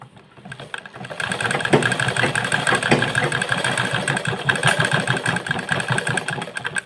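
A sewing machine runs continuously while stitching fabric, leaving oversized stitches at intervals, with a steady fast mechanical whir and rattle that starts after a brief quiet moment and continues close and loud.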